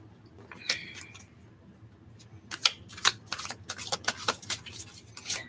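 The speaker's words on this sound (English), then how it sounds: "Shuffling, dropping cards on the floor." Playing cards being shuffled and riffled, a scattered run of crisp snaps and flutters that grows busier in the second half, with no speech.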